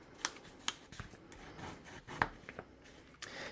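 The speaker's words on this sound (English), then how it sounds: "And again, burnishing all the folds very carefully." Paper folds pressed flat and burnished on a Turkish map fold star book, giving soft rubbing and scraping strokes with a few sharp crisp paper ticks, close and quiet, with no talking.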